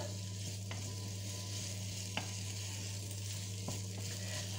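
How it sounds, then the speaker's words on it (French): Pieces of salted pork browning in a pan for a lentil dish, with steady soft sizzling over a low hum and a few sharp clicks of a utensil stirring and scraping. "On remue. Je vais faire revenir pendant quelques minutes."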